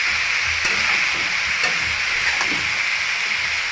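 Vegetables with green chilies sizzle and hiss steadily in a hot pan as they are stirred, a close, continuous frying sound with occasional soft scrapes and no voices.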